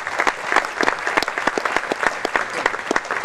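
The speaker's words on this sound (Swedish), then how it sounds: "Tack så hemskt mycket för den applåden" An audience at the final ceremony of a percussion festival at Hulbäcksgymnasiet claps, individual sharp hand claps standing out in a steady, moderately loud round of applause.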